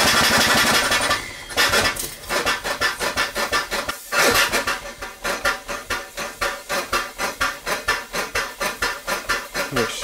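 A steam engine on an SNNC 490 P2 chuffs and clanks in a fast, steady mechanical rhythm, loud and close, with a brief hiss and pause early on.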